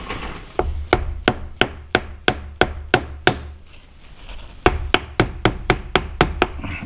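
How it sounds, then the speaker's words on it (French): Mallet tapping a cone into a Chevrolet Van power steering box, about fifteen sharp, evenly spaced knocks in two quick runs separated by a short pause, close and fairly loud with no talk. "on peut doucement le frapper. Donc on utilise un maillet"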